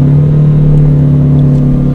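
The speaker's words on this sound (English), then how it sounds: "Here's what happens when you rev your engine loud, and this usually scares people when they do this." A car engine revs loudly and steadily while in gear with a manual transmission, a constant deep droning hum and whir held for the full two seconds without speech.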